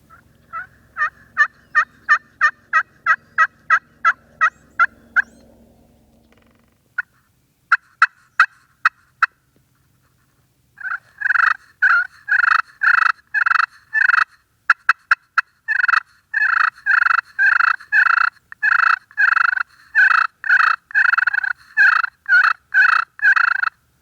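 Wild turkey gobbling during a spring bow hunt: a rapid run of sharp gobbles at first, then scattered bursts, and finally a long, loud, close sequence of repeated gobbles, heard alone in a quiet setting.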